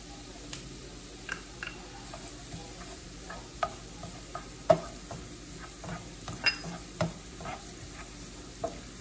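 Garlic sizzles in a pan with onion for camarones a la diabla while a spoon stirs steadily, giving a soft continuous fry with scattered scraping clicks and taps from the stirring.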